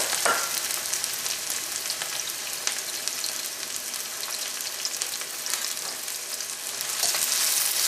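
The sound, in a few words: onions, green chilies and curry leaves sautéing in coconut oil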